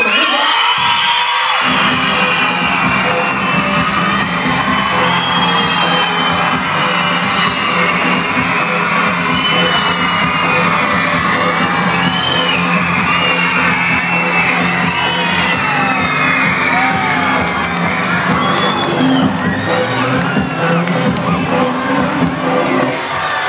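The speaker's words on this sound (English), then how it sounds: "Somebody clap and scream." An audience, including many children, screams, cheers and whoops loudly and continuously for a long stretch, a dense crowd roar with scattered shrill shouts.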